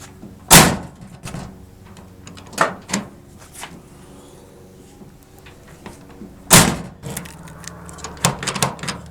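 Several sharp mechanical clunks and latch clicks spaced apart, close by, as a 2010 Toyota Tundra tailgate handle, with freshly cleaned and greased door catches, is operated and locked.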